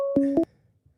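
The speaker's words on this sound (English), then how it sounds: "we do have a phone call coming in" Two short electronic telephone tones in a quick pair ring out for an incoming phone call, followed by near silence.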